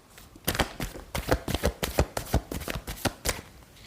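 Tarot cards are shuffled and handled in quick, rapid bursts of papery riffling, close and crisp, around a dozen snaps in under four seconds with no talking.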